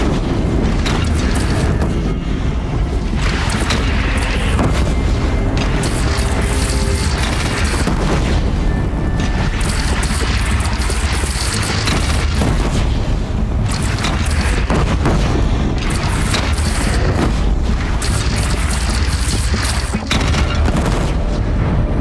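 Cannon fire and explosions in the video game Horizon Forbidden West, heavy booms and blasts rolling almost continuously at loud, dense battle level.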